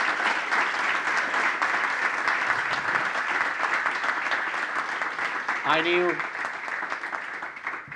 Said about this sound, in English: Big applause for Alex.